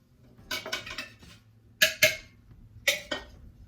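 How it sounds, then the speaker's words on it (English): A metal spoon clinks and scrapes against a bowl while stirring cookie dough, in short bursts of a few sharp knocks with quiet gaps between, close and fairly soft. "I'm just gonna use that spoon to stir."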